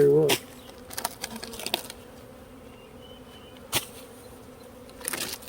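Bees buzz around a treatment-free beehive yard, a steady drone broken by a few louder close passes and sharp bursts.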